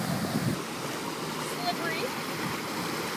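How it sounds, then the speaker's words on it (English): Floodwater surging and washing along a street during Tropical Storm Debby, a constant broadband rush with wind buffeting the microphone, quiet and fairly distant, with a brief voice near the start. "Big wave, big wave."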